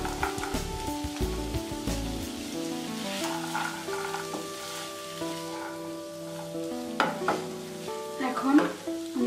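Half-boiled potatoes and green peas sizzle in a pan for a singara filling, with continuous frying crackle and clinking, scraping stirring sounds throughout.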